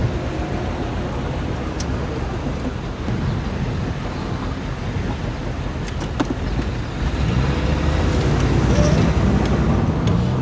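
A 1962 Corvette, newly revived after sitting for years, drives and pulls in on a road in fine weather, its engine a steady low rumble with road and wind noise building toward the end.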